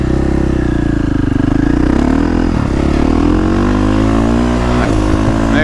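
A 2022.5 KTM 450 Factory Edition motorcycle engine under way with the quick shifter engaged, loud and close, a continuous droning note that climbs and shifts in pitch through the ride, no talk.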